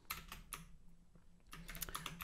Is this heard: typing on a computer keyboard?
yes